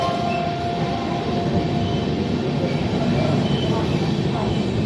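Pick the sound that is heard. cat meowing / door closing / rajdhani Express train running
rajdhani Express train running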